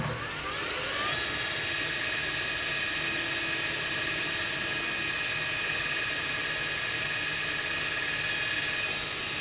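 A metal lathe taking a very light skim cut off the face of a part for a rebar bending tool, with a continuous, even machine whir and faint steady tones throughout.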